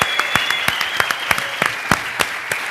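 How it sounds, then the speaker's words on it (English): Conference audience applauding the roasters at a roast event, a steady, loud burst of clapping from a sizeable crowd with sharp individual claps standing out throughout. "let's give one more round of applause for all of our roasters"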